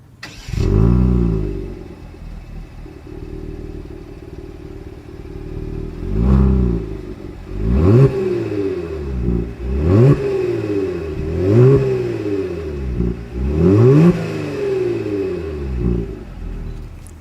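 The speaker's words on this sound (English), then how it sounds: "As always, here is that exhaust clip" A 2020 Genesis G70 engine starts with a loud roar, then revs up and down repeatedly in sharp bursts through the exhaust, close and powerful.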